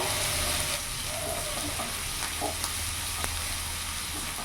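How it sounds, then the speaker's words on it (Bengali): Chopped onion frying in oil in a pan, a steady close sizzle and hiss with a few light stirring clicks and scrapes, no talking over it. "পেঁয়াজটা একটু ভাজা ভাজা করে নেবো যাতে কাঁচা ভাতটা চলে যায়"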